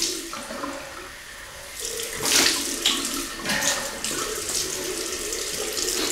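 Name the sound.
tap water running for a cold water rinse while shaving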